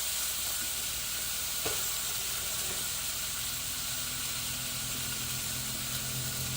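Steak sizzles steadily on a Blackstone flat-top griddle, a continuous close, loud frying hiss that holds evenly throughout with no voices.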